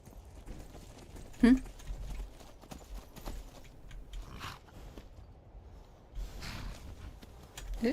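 Horse hooves clip-clop along a trail in the video game Skyrim, a steady run of soft hoof strikes with a sharper knock early on, under game ambience and faint background voices.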